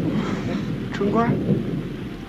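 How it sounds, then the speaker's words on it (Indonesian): Dense, steady rain pours down in a continuous wash, with a brief voice cutting through partway. "下雨了，快走！"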